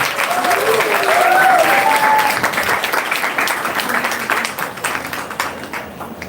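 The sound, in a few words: audience applause and cheering for quiz teams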